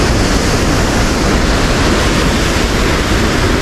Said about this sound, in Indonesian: Kalau ini ombak sungai, ini mah ombak sungai Citanduy.